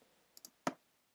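A computer mouse clicks while paths are drawn in Photoshop: two faint light ticks, then one sharper, louder click, close up in a quiet room.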